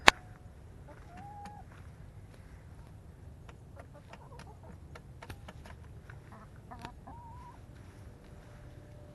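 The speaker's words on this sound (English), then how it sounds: "look at our chickens." Backyard chickens in a pen built from dog kennels cluck in short, scattered bursts, faint and at a moderate distance over a low steady background hum, with a sharp knock at the start.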